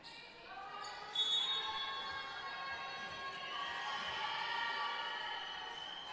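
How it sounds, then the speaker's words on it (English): Crowd cheering at a girls' high school volleyball match against Samueli Academy, a swelling mass of voices and shouts under an announcer's commentary, with a sharp rise near the start. "Crowd's into it, folks."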